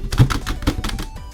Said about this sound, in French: Je viens de exploser mon clavier, grave.